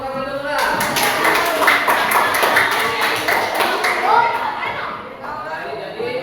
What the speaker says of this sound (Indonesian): Ya, kasih tepuk tangan dulu lah.